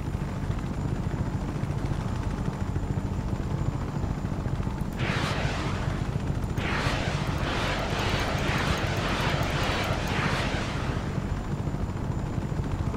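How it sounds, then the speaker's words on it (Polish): A helicopter in Just Cause 3 drones steadily throughout, its rotor and engine noise continuous and fairly loud, with bursts of heavier rumbling like gunfire or explosions partway through. "śmigłowiec za mną leci"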